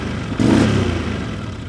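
Poorly running Can-Am Outlander 800 ATV engine, close and loud, jumping from a rough idle into a revving surge under throttle, then holding a strained, uneven drone.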